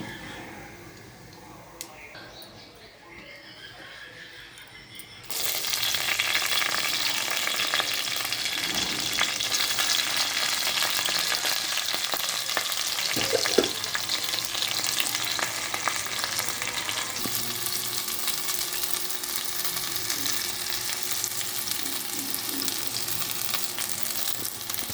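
Whole spices such as bay leaf, cardamom, cloves, cinnamon, shahi jeera and kasuri methi frying in oil for a chickpea and pea khichdi; a quiet start gives way to a sustained loud sizzle.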